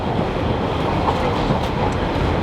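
A Northern Pacer train bouncing and rattling along the rails in northern England, with steady loud rumbling noise and clickety-clack from the wheels, no voices.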